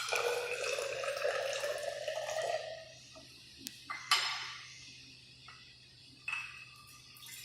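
Water, a 25 ml measure for a second ibuprofen partition solution, running from a tap into lab glassware: a steady, close stream for about three seconds, then quiet with a few sharp clinks and knocks of glass.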